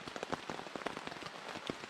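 Steady rain patters on a surface outdoors on a forest hiking trail, a dense, continuous hiss of drops with scattered louder taps, close and alone with no voices.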